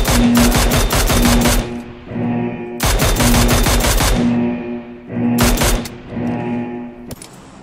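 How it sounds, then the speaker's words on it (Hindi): Sustained bursts of minigun fire from PUBG Lite, three long rapid-fire volleys loud and close with short gaps between them, no talk over it. "मिनी गन ट्राई करते हैं।"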